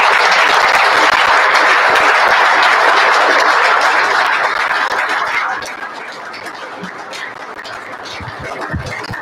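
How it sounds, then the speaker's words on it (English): An audience gives loud, sustained applause at the close of a lecture on COVID, faith and science. The clapping runs dense and full, then thins out and quiets toward the end. "Could we give a round of applause to our"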